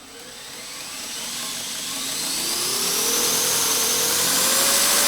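An Outlaw grinder with speed control runs up, its motor whine rising steadily in pitch and loudness as the speed is turned up, loud and close with no talking.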